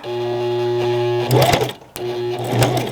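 Sewing machine stitching backpack fabric in two runs, each starting with a steady motor hum, then a louder rattling burst of stitches, split by a brief stop.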